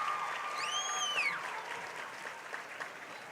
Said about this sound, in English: I like to see the Fighting Tigers bench applauding the cheerleaders